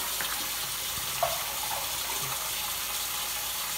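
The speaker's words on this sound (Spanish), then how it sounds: "Vinagre blanco. Vamos a echar como una tacita." White vinegar, about a cup, is poured into a pot while cooking menudo; a soft, continuous splashing trickle of liquid runs for a few seconds at close range, with a small clink near the middle and no talk.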